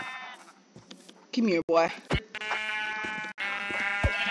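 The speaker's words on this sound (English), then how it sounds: "Ooh, white sheep." Minecraft sheep bleat in a few short wavering calls while a player talks over the game, the bleats rising and falling among the speech at moderate volume.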